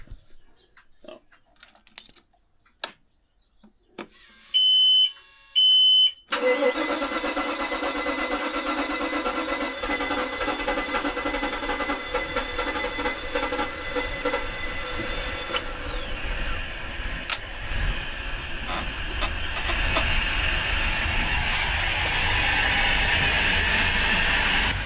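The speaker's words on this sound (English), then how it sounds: "try to start the engine at the same time" A 33ft express cruiser boat engine at the dock, preceded by clicks and a brief whine before it catches around six seconds and then settles into a steady, loud, rough-sounding idle that carries on to the end.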